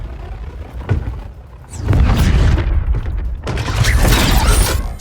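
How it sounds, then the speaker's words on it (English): Arm cannon in Injustice 2 story mode, heavy mechanical clanks and booming blasts, a sharp hit near one second, then two loud sustained bursts with metallic whirring and crackle. "Sweet arm cannon! I got one too!"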